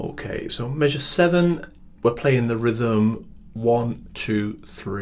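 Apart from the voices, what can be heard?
No everyday noises stand out.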